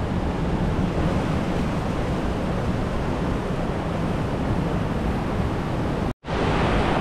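Cold mountain river in Albania flowing loudly, a steady dense broadband rush of water close by, continuous and uniform with a brief cut near the end.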